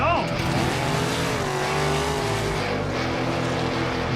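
Race cars with up to 1,200 horsepower tear across the snow at the Shoosh Mountain Snow Challenge in upstate Michigan, their engines roaring steadily and loudly and rising and falling in pitch, with a voice speaking over them.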